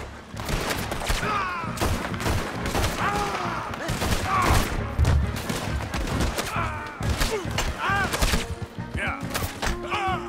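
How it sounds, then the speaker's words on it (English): Volleys of gunfire ring out in a Red Dead Redemption II shootout, with dense, repeated shots and thuds that run throughout amid shouting voices and game music. "Open fire on him!"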